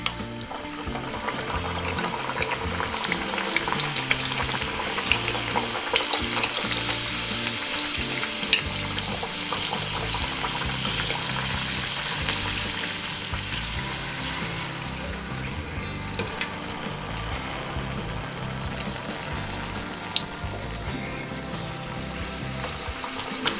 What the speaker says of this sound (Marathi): आता आपण पुरी तळून घेऊयात।